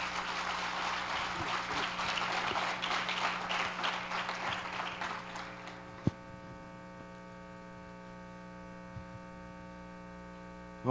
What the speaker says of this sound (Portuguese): Vamos receber o homem de Deus aplaudindo o Senhor Jesus Cristo.